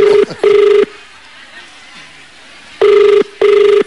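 A telephone rings during a live Filipino TV variety show call-in segment: two loud double electronic rings, one at each end of the clip, separated by a quiet stretch of faint room murmur.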